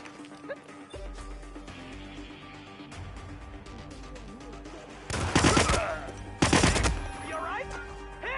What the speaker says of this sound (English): Contact, engage, fire at will.